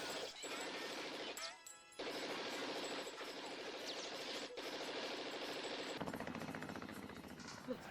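Rapid bursts of film gunfire rattle continuously amid a dense, chaotic action soundtrack, with sharp cracks and crashes throughout, around a ship.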